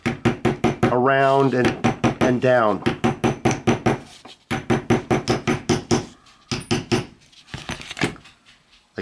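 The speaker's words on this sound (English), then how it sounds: "use a hammer to tap this down" Sharp metallic hammer taps on a retainer cap of a Sturmey Archer 3-speed bicycle hub, in a steady rapid series, some grouped in bursts, with a brief spoken phrase over them, close and loud.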